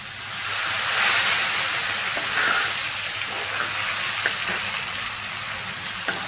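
Spicy fish frying in hot oil, a loud steady sizzle with a few soft clicks and scrapes as the pieces are turned over in the pan.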